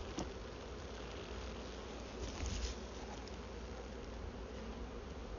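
A honeybee swarm being transferred into a new hive, a dense continuous buzzing of many bees heard close and steady, with a brief louder swell midway and no voices.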